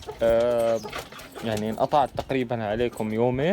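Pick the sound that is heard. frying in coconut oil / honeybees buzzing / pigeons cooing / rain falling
pigeons cooing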